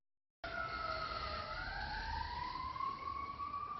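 A wailing emergency siren sounds continuously and fairly loud from start to end, its tones sliding slowly upward, with low traffic rumble beneath and no one talking.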